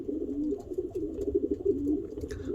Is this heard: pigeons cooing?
yes